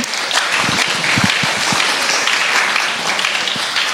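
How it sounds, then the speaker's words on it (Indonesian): An audience at a university student talk show on television breaks into loud, continuous applause, with dense clapping holding steady throughout. "Marilah kita berikan tepuk tangan yang sangat meriah pada pagi hari ini"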